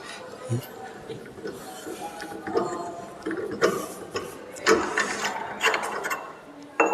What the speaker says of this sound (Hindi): अगर इसे खोलना भी है तो पाइप रिंच की सहायता से इसे खोलते भी हैं